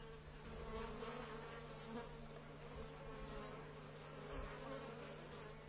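A dense, steady buzzing drone of many bees inside a hive with beetles, continuous and even, with a faint low hum beneath.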